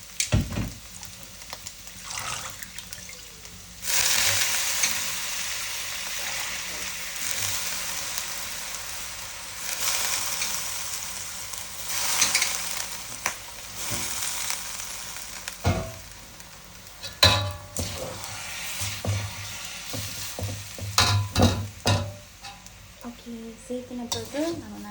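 Mehun (meehon) noodles being stirred in a frying pan, a steady sizzle with scraping and clinking of the spoon against the pan, louder bursts as the noodles are turned, with no talking.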